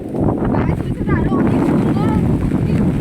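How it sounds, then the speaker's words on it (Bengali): Strong wind blows beside the flooded Brahmaputra river at Majuli island, loud gusts buffeting the microphone continuously while a person speaks over it. "অনেক জোরে হাওয়া দিচ্ছে"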